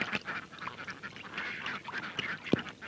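Ducks quack and honk in short, scattered calls at a moderate distance, faint against a light outdoor background, with no talking.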